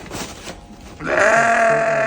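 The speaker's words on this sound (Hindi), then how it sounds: "ये पहली भेड़ आ गई है, यही हाथ में आई है।" A sheep bleats loudly and close by during shearing, a drawn-out wavering call following a moment of quieter background noise.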